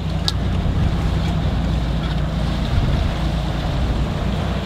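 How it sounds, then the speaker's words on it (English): A boat's bow thruster running while mooring at Vero Beach, a steady low mechanical hum and rumble blended with wind and water noise on deck, continuous and fairly loud. "All right, bow thruster on."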